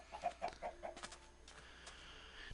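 A chicken in the Minecraft video game clucks in a quick run of five or six short, soft notes, then fades under faint ambient game noise.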